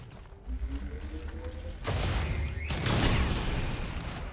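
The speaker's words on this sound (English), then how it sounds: "Let's deal with this faceless with the bolt caster." A bolt caster fires at a Faceless in XCOM 2, a sudden loud mechanical crack and blast that breaks over a low hum and rumbles on with crashing debris, with no talking.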